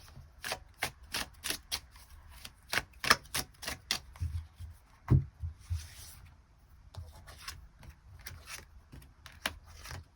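Tarot cards being drawn and handled during a love reading, giving a steady run of crisp card snaps, slides and taps up close, with a few heavier thumps on the table and no talking.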